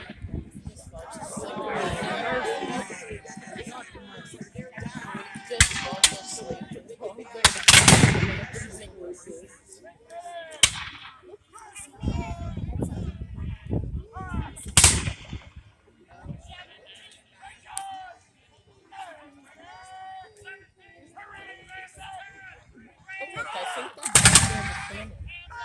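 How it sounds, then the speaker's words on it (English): Musket volleys fired by Revolutionary War reenactors standing in a straight line, heard as several loud sharp bursts spread over the scene, with crowd chatter and talk in between. "Still pretty much standing in a straight line and doing volley fire"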